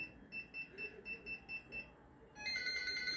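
A BABA digital door lock's intrusion alarm, set off by an unregistered passcode, gives a run of seven rhythmic beeps, then breaks into a continuous loud, shrill warbling siren.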